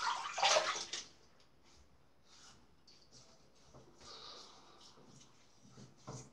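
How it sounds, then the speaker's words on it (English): Water splashed onto the face while rinsing during a wet shave, a loud close splash at the start followed by quieter trickles, drips and scattered small splashes. "I'll rinse my face again."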